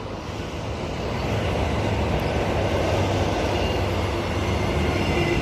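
Six-car EMU electric train pulling into a suburban rail platform, a steady loud rumble of wheels on track building up and holding, with faint squealing, no talk.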